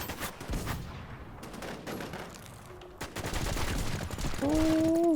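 Gunfire in the video game NewZ crackles in rapid bursts throughout, close and sharp, with a rising electronic tone near the end.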